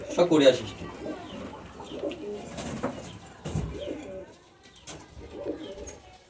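Punjabi pigeons at a pigeon keeper's loft coo in low, throaty bursts, loudest at the start and then recurring more softly in short clusters, with faint background voices.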